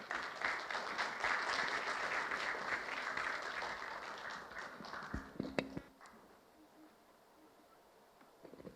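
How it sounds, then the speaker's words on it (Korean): An audience at a Korean colloquium gives warm welcoming applause for the keynote speaker, dense clapping that holds strong for about five seconds, then thins to a few scattered claps and fades into quiet room noise. "여러분 힘찬 박수 부탁드리겠습니다."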